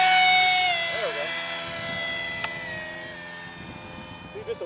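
A large R/C interceptor propjet model plane flies at about half throttle, its motor giving a steady, fairly loud whine that fades slightly as it moves away, with a brief voice underneath.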